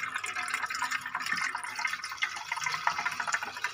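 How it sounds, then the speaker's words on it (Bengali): Vegetables are washed under running water, a close, steady splashing and trickling with small drips throughout the short stretch. "কিন্তু পরিষ্কার করে আমরা ধুয়ে নেব।"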